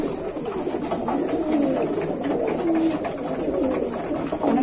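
Pigeons coo in low, rolling calls that repeat steadily, with several birds overlapping at moderate distance against a constant background hiss.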